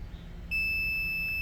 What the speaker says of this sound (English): It was a solid beep.